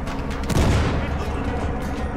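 Gunfire from a sniper in the video game Battlefield Hardline: a loud close burst of shots with a heavy boom near the start, then ragged shooting and noise from the battle that carries on to the end.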